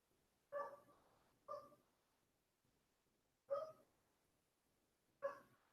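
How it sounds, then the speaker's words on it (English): Four short dog barks, spaced irregularly with quiet gaps between them, sounding somewhat distant and muffled. "We have many dogs are barking."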